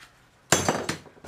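Screwdriver punched into material to make a hole for a miniature palm tree model, a few sharp hard knocks and clinks in quick succession, close and fairly loud, with no talk.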